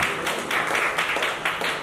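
An audience at a Bollywood health camp event bursts into loud, dense applause, many hands clapping together in a sustained, rippling wash with no voices over it.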